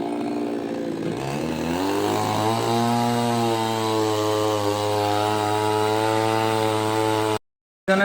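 A chainsaw cutting a tree in Nagaland, its engine revving up and then holding a loud, steady whine close by for several seconds before cutting off abruptly near the end.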